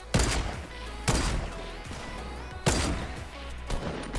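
Semi-automatic gunfire in the Fortnite video game during a large 50 vs 50 battle, with three or four sharp, loud shots spaced about a second apart, each trailing off into a short echoing decay.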